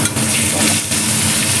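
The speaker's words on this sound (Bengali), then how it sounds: "তো এবার আলুটা ভাজতে দেবো" Potato pieces fry in hot oil in a pan, a steady dense sizzle with brief stirring scrapes, close and constant.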